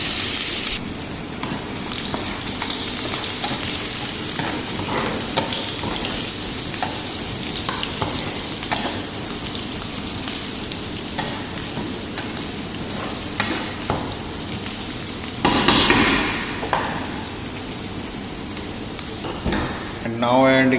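Chopped onion frying in a pan for Indian daal tadka, stirred steadily, a continuous close sizzle with scraping and stirring strokes throughout and a brief louder burst of sizzling near the end, no speech.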